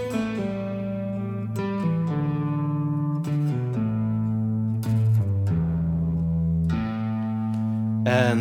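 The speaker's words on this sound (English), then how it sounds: "always pull off onto the open strings" An electric guitar plays pentatonic box licks with pull-offs to the open strings, giving quick, sustained plucked notes that change pitch in a continuous flowing line, fairly loud and without talking.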